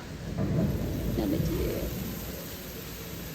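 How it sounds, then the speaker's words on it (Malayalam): Steady rain and gusting wind with a low thunder rumble swelling early on, then a constant wash of rainfall. "ഭയങ്കര മിന്നലും മിടിയും മഴയും കാറ്റും"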